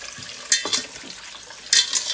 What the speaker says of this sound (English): I am going to wash my beef.